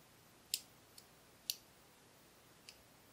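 Lock pins clicking as a "No Load" challenge lock by Bearsback is picked, four faint, sharp, isolated clicks spaced roughly half a second to a second apart in a quiet room.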